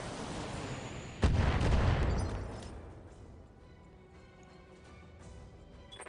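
BattleTech mech weapons fire in a single sharp, loud blast that then rumbles and fades into a quieter, steady background hum.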